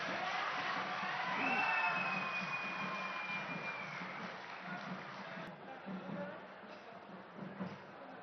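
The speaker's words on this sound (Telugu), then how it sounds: "గట్టిగా చప్పట్లు కొట్టి." Crowd clapping and cheering at a foundation-stone laying ceremony, with broad, steady applause and crowd noise running throughout at moderate loudness.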